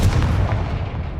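Confringo blasting curse in Hogwarts Legacy, a single loud, close, deep explosive boom with a rumbling low-end burst that decays over about a second.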